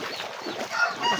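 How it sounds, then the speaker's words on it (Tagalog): Chickens cluck and murmur in a rapid, overlapping stream inside a flooded coop, close and moderately loud. "Ating mga manok dito."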